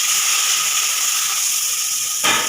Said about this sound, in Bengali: তারপরে আমি কোচানো পেঁয়াজটা দিয়ে দিচ্ছি।